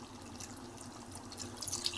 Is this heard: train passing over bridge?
no